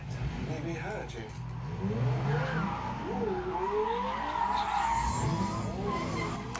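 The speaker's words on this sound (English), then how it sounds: "Car chase, let's go." Tires squeal and skid repeatedly during a TV-show car chase, with engines revving underneath and speech mixed in, dense and continuous throughout.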